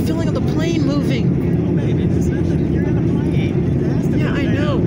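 Inside an airplane cabin descending toward landing after departing California, a constant broad engine and airflow roar fills the space while people talk over it.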